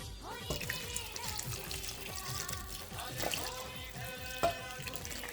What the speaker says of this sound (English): I'll just add the syrup over and let it soak